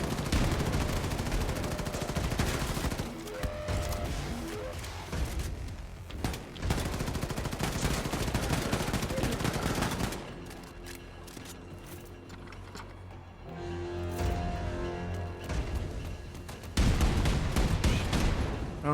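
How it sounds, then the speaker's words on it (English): Dual guns firing in the video game Wolfenstein 2, with loud, dense bursts of rapid gunfire and booming shots that keep going, easing off midway and then surging again near the end. "I don't like this dual gun."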